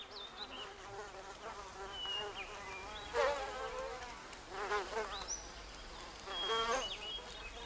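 Wasps buzz in the wild with a thin, wavering drone that swells and fades several times as individuals pass close by, set against a soft, steady outdoor background.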